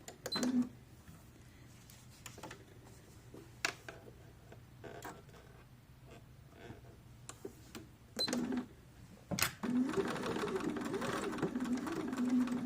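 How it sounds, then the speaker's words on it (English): Sewing machine top stitching denim jeans with gold thread, running slowly around a curve; the motor whirs in short bursts near the start, around eight seconds and steadily from nine and a half seconds on, with quiet handling between. "Now you're going to stitch very close to this edge and you're going to top stitch it."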